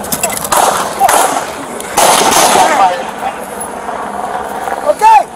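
LAPD officers fire their guns on a bodycam recording, a few loud sharp shots in quick succession amid shouting voices, with harsh crackling bursts close to the microphone.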